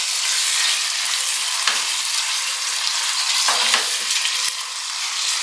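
Chicken pulao being mixed with masala and salt in a pot, a continuous close frying hiss with occasional scrapes and a couple of light utensil knocks, no voices.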